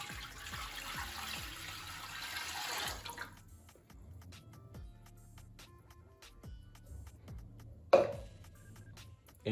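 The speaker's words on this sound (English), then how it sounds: "So the final step of seasoning is you just pour water." About a liter of water is poured into a new clay cooking pot during seasoning, a steady splashing rush for the first three seconds, then quiet drips and small knocks, with one sharp clunk near the end.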